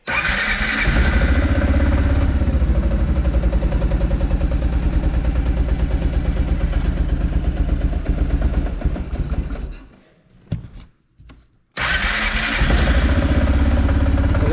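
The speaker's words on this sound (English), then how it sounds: "So I'll fire it up again and we'll see if it changed anything." A Kawasaki Prairie 360 ATV engine cranks and fires up, settling into a loud, steady close idle; near the end it cuts out briefly, sputters, then restarts and runs again at a strong, even idle.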